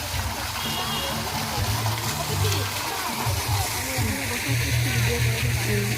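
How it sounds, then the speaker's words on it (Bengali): Water falling at Kadamtala ghat in Krishnanagar, a steady broad rushing wash that continues beneath nearby murmured voices. "এখানে জল পড়া খুব সুন্দর লাগছে"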